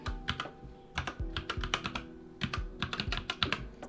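A Minecraft mod command is typed on a computer keyboard in quick, irregular bursts of crisp key clicks, close and clear, with short pauses between runs of keystrokes.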